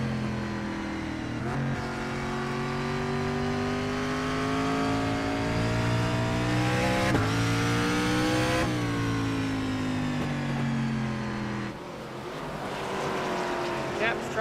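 On-board race car engine at Stafford Motor Speedway in iRacing, droning loud and steady under lap after lap, its pitch climbing and dropping with brief lifts as the driver cruises below peak revs, while voices talk over it.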